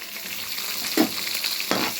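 Cashews and curry leaves crackling in hot oil in a pan for coconut rice, a steady close sizzle with a couple of sharper pops and stirring clicks.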